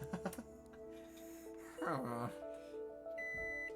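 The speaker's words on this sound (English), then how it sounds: "Suddenly, the sound of an alarm resounded through the entire room." An in-game alarm sounds in Angels With Scaly Wings, a series of tonal electronic beeps and a rising-falling warble over a background of steady tones, played under a voice that is speaking.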